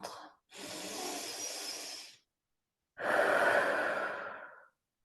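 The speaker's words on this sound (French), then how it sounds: "Prenez quelques respirations profondes dans le ventre." Deep belly breaths taken during a guided meditation: a short intake, then a long, steady airy exhale, a pause and another long breath, close and quiet with no talking.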